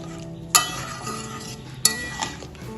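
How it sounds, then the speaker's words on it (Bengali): Ridge gourd curry being stirred in a pan after a cup of hot water goes in, two sharp scraping clinks standing out over a low steady simmer and soft utensil movement. "এবার আমি এর মধ্যে দিয়ে দেব 1 কাপ গরম জল।"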